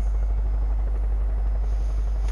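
A helicopter in the video game Far Cry 5 makes a loud, constant low rotor rumble and whine that is close and steady throughout, with no talk.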